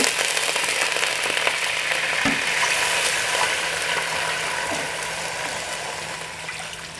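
Water poured into cooked spice paste for opor ayam sets off a steady, loud, hissing sizzle in the pan that fades slightly toward the end, with no one speaking.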